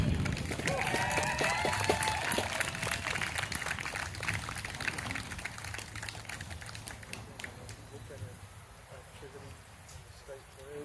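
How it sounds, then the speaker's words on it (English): A Detroit street rally crowd cheering and applauding a community action group, a dense wash of clapping and voices that fades gradually toward the end. "Let's get a cheer for the work they are doing"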